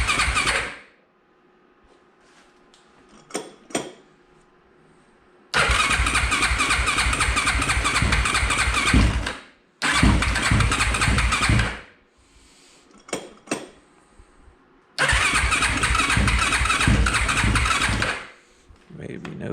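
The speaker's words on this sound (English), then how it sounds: "This thing is dead cold. So pop that throttle a couple times." A cold motorcycle engine cranks and catches several times, bursting into loud, close revving with the throttle popped, then cutting out into quiet gaps with a few clicks between attempts.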